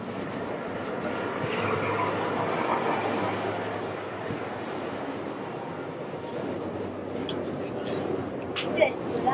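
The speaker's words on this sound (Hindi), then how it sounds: "ये मैगलेव ट्रेन है भाई," A maglev train running between airport stations in China, heard from inside as a steady, loud broadband rumble and hum that holds throughout, with a brief sharper noise near the end.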